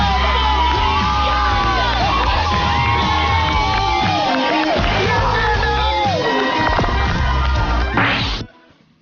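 Students at a school graduation ceremony cheer, whoop and shout in a loud, dense crowd roar with scattered claps and thumps, continuous for about eight seconds before cutting off abruptly.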